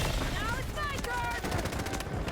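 A new medic SMG, the MK4, fires in the shooter game Delta Force in rapid automatic bursts, loud and close, with rattling shots over game noise and a voice.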